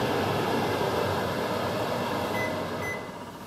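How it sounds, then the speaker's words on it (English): A steady, even hum of a running microwave oven fills the clip, a continuous broadband drone with a faint high tone, easing slightly at the end. "And the microwave works."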